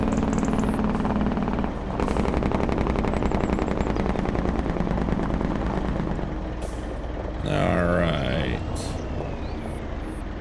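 A heavy truck hauling a load of carrots at highway speed with its Jake brake engaged, giving a loud, continuous rapid staccato engine rattle that swells and fades over several seconds, with a brief hiss near the end.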